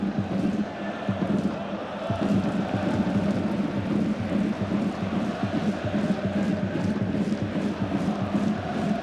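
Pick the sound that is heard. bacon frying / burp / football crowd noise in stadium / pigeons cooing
football crowd noise in stadium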